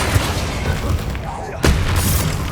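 A Bombarda explosion spell cast in the Hogwarts Legacy video game: loud, booming blasts and bursts that land near, with a brief drop before a fresh heavy impact, while a voice speaks over the action.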